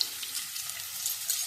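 Garlic dropped into onions frying in a pan gives a brief, close, bright sizzle, steady and hissing, with no speech.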